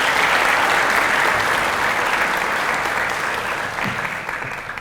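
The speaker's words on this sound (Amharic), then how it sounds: "አጨብጭቡለት።" An audience claps in sustained, dense applause at a speech on forgiveness, loud and even throughout and fading slightly toward the end.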